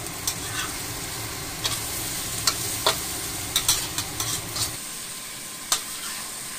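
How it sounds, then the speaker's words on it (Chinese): Lamb blood and chives stir-fry in a wok with a steady sizzle and intermittent spatula scrapes and clacks, close up; the sizzle thins out near the end as the dish comes off the heat. "羊血炒韭菜，马上出锅。"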